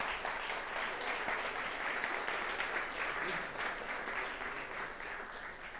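Audience members at an AI ethics and fairness symposium clap to welcome the panelists, a sustained, moderately distant round of applause that tapers slightly toward the end.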